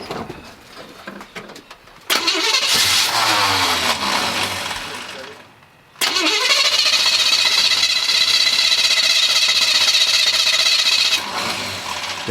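Restored 1972 Chevrolet C10 pickup engine cranking to life, cutting out briefly, then catching again and running steadily and loudly close by.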